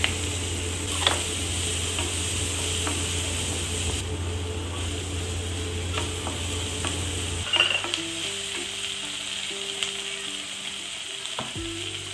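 Garlic, onion, capsicum and tomato cooking in oil in a home kitchen, a loud steady sizzle with occasional stirring taps, the frying easing off near the end while a faint ticking continues.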